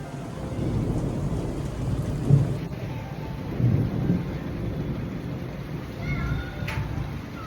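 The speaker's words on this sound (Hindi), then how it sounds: "ये देखिए फ्रेंड्स कितनी तेज से बादल गरज रहा है" Heavy rain pours steadily while deep thunder rumbles roll in several times, low and booming.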